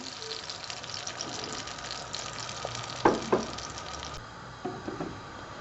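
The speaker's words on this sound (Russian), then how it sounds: "Сразу доливаем стакан воды." A glass of water is poured into a pot of shelled broad beans with a soft gushing splash, a couple of sharper splashes midway, quiet against faint background sizzle.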